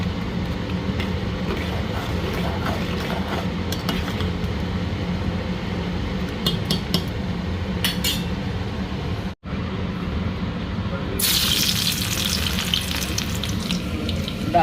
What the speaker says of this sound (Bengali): ডালটা ফোড়ন দেবো।